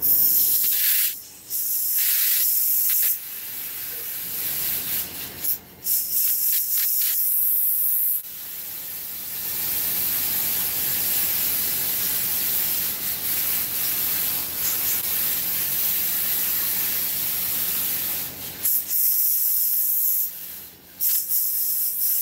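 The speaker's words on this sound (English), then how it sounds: "I'm going to go ahead and hit this with contact cement." Contact cement sprayed onto a dummy hisses in long continuous bursts, loud and close, with brief pauses between passes and no talking.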